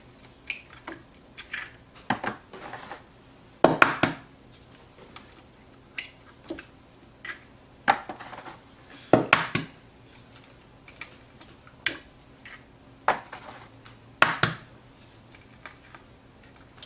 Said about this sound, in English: Now what we're going to do is add our eggs